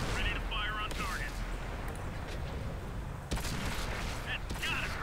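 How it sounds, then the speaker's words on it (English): Dense battlefield gunfire and artillery from the World of Tanks video game, with a Type T34 tank in the match: a steady barrage of shots and booming blasts with sharp cracks throughout, loud and continuous. "Freaking bullets going off."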